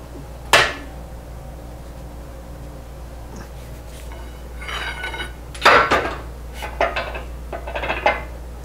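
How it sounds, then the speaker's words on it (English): Metal being formed on an arbor press worked with a pipe cheater bar gives off a sharp metallic clank, then a series of scraping, clinking metal knocks of varying loudness over a low steady hum. "I had to use a pipe for a cheater bar on my Arbor press. But it still worked"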